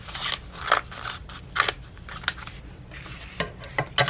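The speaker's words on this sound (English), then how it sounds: "I'm going to take my scissors again, and we are just going to cut around what the Cricut just cut" Scissors snip around Cricut-cut vinyl in a series of crisp, close cuts at an uneven pace, with quiet rustling of the vinyl sheet between snips.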